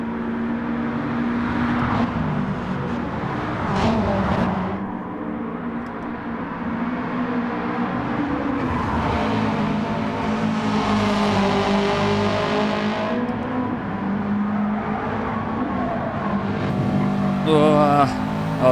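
Race car engines in Gran Turismo 7 during a forest sprint daily race, revving and shifting continuously at close range, with brief tyre squeal and someone commentating over them.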